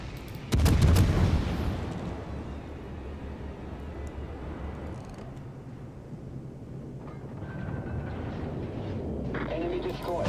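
Naval artillery fire in the video game World of Warships, a heavy booming salvo near the start followed by a long rumbling decay and steady low engine drone, with a voice talking over it.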